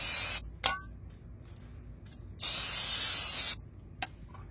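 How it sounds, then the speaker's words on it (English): Brake cleaner sprayed on BMW E63 M6 axle parts before fitting them to a 650i: a loud close hissing burst, a brief puff, then a second long spray over about a second, with a faint tick between. "Clean those suckers up with some brake cleaner."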